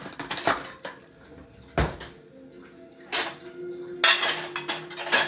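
Dishes and cutlery clink and clatter in scattered bursts as a dishwasher is unloaded, with quieter pauses between the handfuls of plates and silverware.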